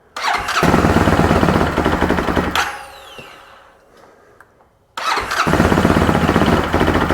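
A Bennche 800 UTV engine revs loudly and roughly after a fresh motor install, cuts back to a fading idle and near silence, then roars up again to full revs, close by with no talk.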